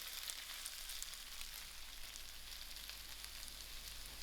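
Brinjal fries in oil in a pot with a steady, even hiss of sizzling that carries on throughout, faint but close, with no talk.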